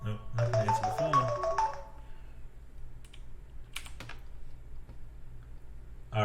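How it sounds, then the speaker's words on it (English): A telephone rings with a bright, repeating electronic tone in the opening seconds, then stops, leaving soft keyboard typing and faint clicks in a quiet room. "Nope, not going to answer the phone."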